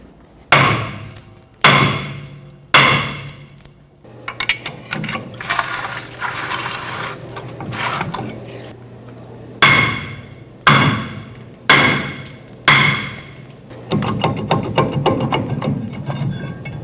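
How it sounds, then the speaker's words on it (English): A hammer strikes the back of a rusted rear brake hub on a Ford F-350 in bursts of sharp, ringing clanks, grouped in short runs with a steady mechanical hum between them. "take a hammer and hit it from the backside, and that should break it free"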